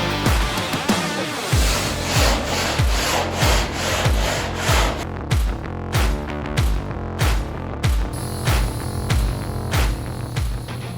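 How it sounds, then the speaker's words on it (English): Coarse 36-grit sanding block rasping back and forth over body filler on a car roof, a steady run of rough, loud strokes with no talking. "the sanding block was running 36 grit, so again, a lot of this filler ends up on the floor"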